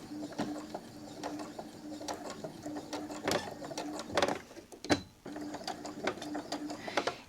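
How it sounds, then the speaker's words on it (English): Sewing machine stitching an AirPods keychain case with a back-stitched tab, close by: a steady mechanical whir with rapid ratcheting clicks and a few sharper knocks. "I always back stitch just because it's gonna get so much wear"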